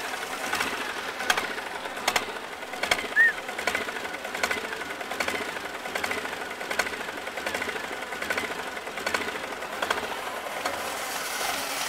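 A Case diesel tractor engine cold-starts and runs with a rapid, rattling clatter, a steady loud mechanical knock repeating throughout with sharp periodic clanks, close by and without talk.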